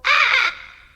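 A parrot squawks once, loud and close in a courtroom, a harsh bright cry lasting about half a second before fading quickly.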